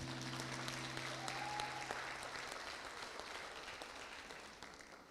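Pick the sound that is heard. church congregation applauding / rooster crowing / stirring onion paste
church congregation applauding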